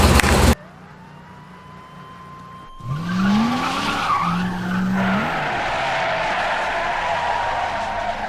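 A 1977 Pontiac Firebird Trans Am doing a burnout: after a loud opening burst and a quiet pause, the engine surges and the tires break into a loud, sustained squeal and hiss that carries on to the end.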